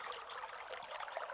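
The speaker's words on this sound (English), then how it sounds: "now we hear the sound of running water" Running water from a spigot in the Myst video game gives a soft, continuous trickling pour, faint and steady with no talk over it.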